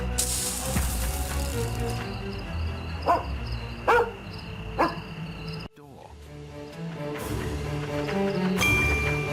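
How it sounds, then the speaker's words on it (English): A dog barks a few times in The Testament of Sherlock Holmes video game, with sharp yips over a steady background score and some game speech. "Good dog, Toby."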